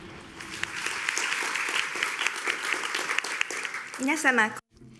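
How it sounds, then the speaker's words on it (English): A conference audience at the WAW! 2017 keynote session claps for a speaker, a dense, sustained round of applause that fades near the end as a voice begins speaking. "Please give her a round of applause."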